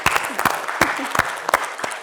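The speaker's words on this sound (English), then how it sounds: "Round of applause for Melissa." Applause from an audience, with several sharp louder clap bursts standing out over a steady wash of clapping.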